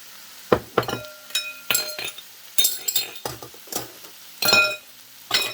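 Carrots and mushrooms tumbling into a pan of cooking celery for chicken cacciatore, a series of close clinks, scrapes and stirring knocks against the pan with light sizzle between, no talking.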